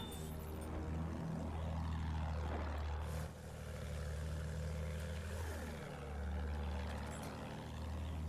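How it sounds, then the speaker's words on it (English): An enemy propeller aircraft from the Battlefield 1 war game drones overhead, its engine pitch sweeping as it passes close and loud, with a second pass following against a low rumbling battlefield backdrop. "Feindliches Flugzeug"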